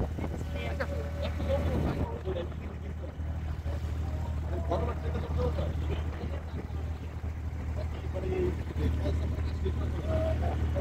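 An abra boat's engine drones low and steady on Dubai Creek, a constant rumble close by throughout with wind and water noise, while people talk over it.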